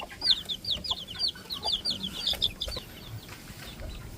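A Rhode Island Red chicken clucks in a quick run of short calls over faint background noise.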